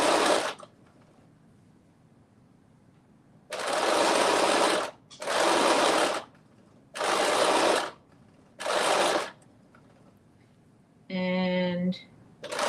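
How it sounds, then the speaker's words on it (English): A sewing machine stitches fabric in four loud, close bursts of a few seconds each, separated by quiet pauses, with a short voiced sound near the end. "then I am stitching all the way around"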